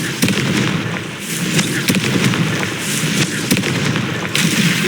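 Explosive spell blasts from the Confringo curse in the Hogwarts Legacy video game, several sharp bursts and booms popping over a dense, continuous bed of game combat noise.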